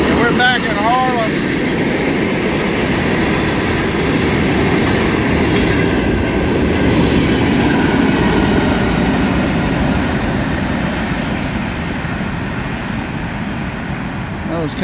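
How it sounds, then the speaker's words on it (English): Short freight train rolling past at steady speed near Harlem, a continuous rumbling clatter of wheels on rail lasting the whole stretch, with a faint horn-like tone early on and no break in the noise. "It was kind of a short train right there"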